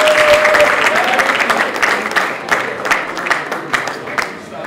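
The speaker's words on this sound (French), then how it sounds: "Cet événement a salué par des applaudissements nourris" A crowd at a university academic opening ceremony claps steadily, dense and loud applause that gradually thins out toward the end.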